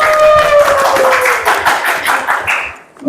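An audience clapping, a fast run of sharp, close hand claps in a rapid even rhythm over about three seconds, with a tonal voice or whistle-like sound in the first half.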